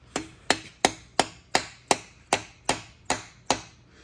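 Ten evenly spaced metal taps, about two and a half per second, ring out crisp and close as cylinder head dowels are driven into a Cummins diesel engine block, each hit decaying quickly with no talking.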